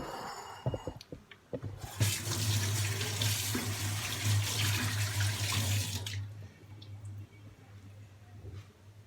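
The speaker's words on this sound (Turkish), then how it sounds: "Şu ellerimi bir su dökeyim" Water from a kitchen sink tap pours over hands in a steady, close splashing stream for about four seconds, framed by a few soft knocks and handling sounds before it shuts off to quiet.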